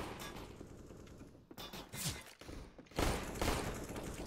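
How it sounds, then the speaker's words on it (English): Gunfire rings out through a smoke grenade during a competitive Counter-Strike: Global Offensive esports match. Scattered rapid bursts of shots, with the loudest cluster near the end, sound fairly distant and soft. "They're shooting through the smoke, they're just trying to get a frag through."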